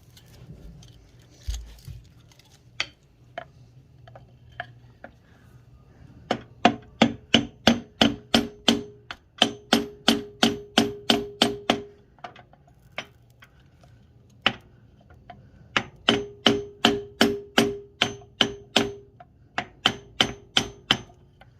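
Hammer tapping on the cylinder head of an International 300 utility tractor, bursts of quick, evenly spaced metallic knocks, close and crisp, with short pauses between runs.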